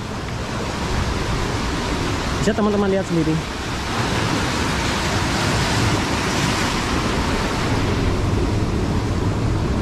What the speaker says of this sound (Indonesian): sama seperti karakter pantai yang lain di selatan Pulau Jawa, yaitu mempunyai ombak yang sangat besar